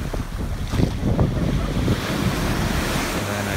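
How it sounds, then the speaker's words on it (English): Ocean surf washing up on a sandy beach, a steady broadband rush of water with gusts of wind buffeting the microphone, a few louder splashes early on, continuous and close. "there's the water splashing on my feet"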